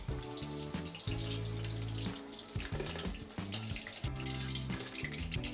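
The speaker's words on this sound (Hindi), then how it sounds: "बिल्कुल इसी तरह से आप अपने बेबी कॉर्न को हाई फ्लेम पे फ्राई कर लें।" Baby corn fries in a pan over high flame, giving a bright crackling sizzle with scattered pops and spatters, close and steady for several seconds without speech.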